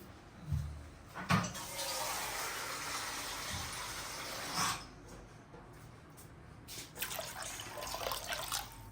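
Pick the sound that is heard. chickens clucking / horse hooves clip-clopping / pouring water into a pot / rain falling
pouring water into a pot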